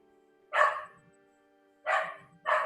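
A small dog gives three sharp, close barks, one early and two in quick succession near the end, with quiet gaps between.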